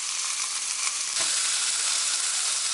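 Chicken piri piri fries in a pan with a dense, continuous sizzle, loud and close, with a slight stirring shift partway through and no talking.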